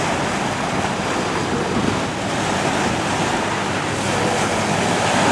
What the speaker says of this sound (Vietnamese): Sóng đánh lên tới bon luôn các bạn.